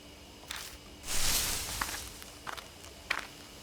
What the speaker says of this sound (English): There are footsteps close by. From the bushes.